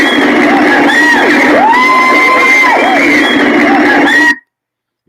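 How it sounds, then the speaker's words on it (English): Crowd cheering and whooping with excited shouts, loud and continuous for about four seconds before cutting off abruptly into silence. "A big round of applause for them"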